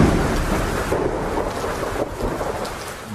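Heavy rain pours steadily during a thunderstorm, with deep rolling thunder rumbling underneath the dense hiss of the downpour.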